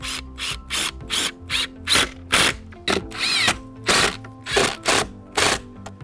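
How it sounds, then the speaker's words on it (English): A power drill drives a 3.5 inch wood screw into a wooden greenhouse frame, whirring loudly in a rhythmic series of short bursts with brief pauses between them, close up. "So I'm going to just put the last screw in to get this frame finished"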